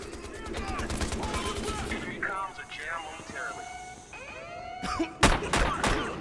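Rapid gunfire bursts from the video game Battlefield Hardline, loud and close, opening the stretch and returning in sharp cracks near the end, with someone talking excitedly over it.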